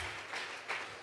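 A church congregation at a Sunday service claps together in a steady rhythm as praise to God; the clapping sounds faint and distant.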